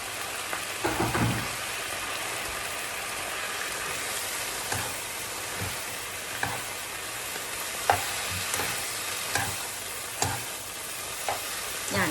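Wild garlic and pork skin stir-fry in a hot pan with oyster sauce, holding a steady close sizzle while a utensil scrapes and taps the pan every second or so, with no talking.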